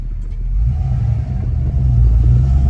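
LS-swapped Squarebody dually truck engine running rough while cruising, a loud, steady low-pitched rumble that dominates throughout with no talk.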